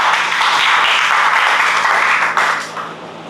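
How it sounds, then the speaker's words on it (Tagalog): A church congregation applauds together, a dense sustained clapping that fills the room for a few seconds before thinning out and fading. "Isang malakas sa palakpak para sa Panginoon."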